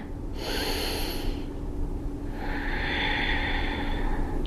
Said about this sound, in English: One more deep breath. Inhale and exhale.